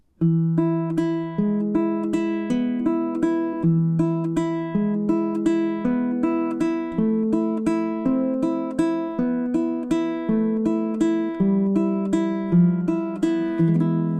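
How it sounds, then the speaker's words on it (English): Baritone ukulele plays Malagueña with a rapid three-finger roll, a steady stream of plucked notes ringing over a shifting bass line, clear and close with no talking. "this is called the 3-finger roll because it's creating these"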